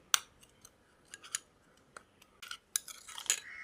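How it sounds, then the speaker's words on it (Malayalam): A spoon clinks and scrapes in a small bowl while coffee powder, curd and honey are stirred together for a skin tan-removal mix: sharp, irregular metallic taps close up over near silence, with no voices. "ഇനി നമുക്ക് ഇത് 3 എണ്ണം കൂടെ നല്ലപോലെ ഒന്ന് മിക്സ് ചെയ്യാം"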